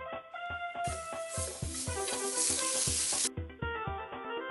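Water hisses and sizzles sharply on a hot tava griddle in one loud burst lasting a couple of seconds, set against steady background music.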